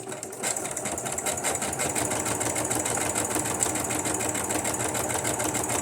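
A sewing machine stitches through paper scraps in a fast, steady mechanical whir with a rapid needle rhythm, running continuously and close up without talk.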